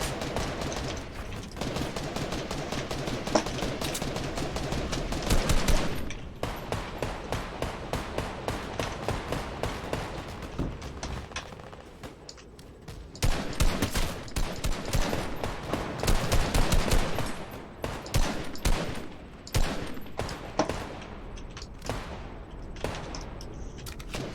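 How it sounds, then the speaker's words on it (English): Fortnite gunfire from a raised position: rapid repeated shots in rhythmic bursts, loud and close, with brief pauses between volleys and heavier clusters of fire later. "I gotta keep shooting at people from up here"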